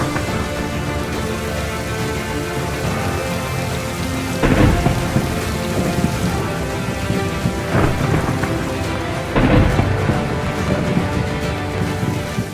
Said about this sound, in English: one of the few storms of the entire year was about to commence